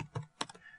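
A few quick, faint keystrokes on a computer keyboard during bookkeeping data entry, three or four soft taps within a second.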